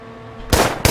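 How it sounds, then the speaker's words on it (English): Two loud, sharp bursts of video game gunfire crack close by in quick succession, each a short blast with no talking. "There's gunshots."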